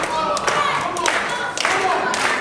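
Wrestling crowd at a live WrestleForce title match in Harlow clapping in a rhythmic unison beat, with commentary spoken over it.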